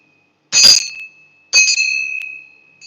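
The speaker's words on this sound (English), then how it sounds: "This temple bell, I'm going to ring like this." A temple bell is struck twice, each bright metallic strike ringing out clearly and decaying slowly into silence, the second tone sustaining longer.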